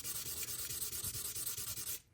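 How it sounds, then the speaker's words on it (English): Rust being hand sanded off an Imperial fish knife blade, close rhythmic back-and-forth scratching strokes in an even steady pattern that stops abruptly near the end. "I try to keep my sanding motion"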